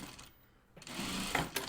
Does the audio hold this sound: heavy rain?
no